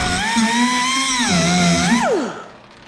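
Cut-off wheel slicing a dent puller stud off sheet metal: a loud, steady high-pitched whine that dips in pitch under load, then winds down and fades out near the end.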